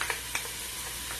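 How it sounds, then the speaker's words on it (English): Onions, shallot and garlic frying in oil get stirred in a pan, a few quick scraping strokes over a steady close sizzle, with no talking. "give it a stir"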